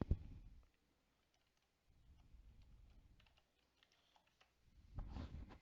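Keyboard typing on a computer while searching an Excel sheet, heard as two bursts of soft, quiet keystroke clicks separated by a pause, with no talking.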